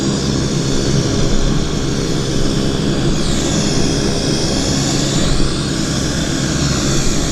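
Aircraft at Vancouver International Airport (YVR), a loud continuous engine roar close by, with a rising and falling whine midway as a plane passes, no voices heard.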